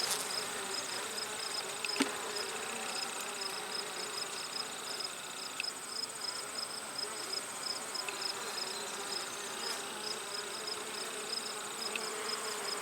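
A busy mass of honey bees buzzes steadily and close during the inspection of a likely queenless hive. The drone holds for the whole stretch, faint electronic whines show through it, and now and then a sharp click or tap cuts in.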